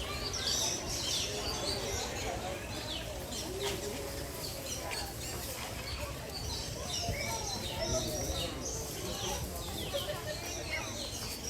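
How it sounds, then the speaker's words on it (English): Small blackbirds chirp and squabble in a bamboo aviary at a zoo, dense overlapping tweets and calls filling the air amid steady crowd ambience. "We still have a console of like little blackbirds that are arguing back and forth."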